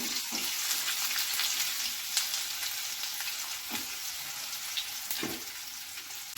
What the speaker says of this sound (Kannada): ಸ್ವಲ್ಪ ಫ್ರೈ ಮಾಡತ್ತೀನಿ ರೀ ಈರುಳ್ಳಿ